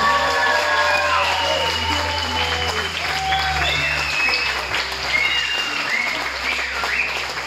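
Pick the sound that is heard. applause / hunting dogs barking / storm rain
applause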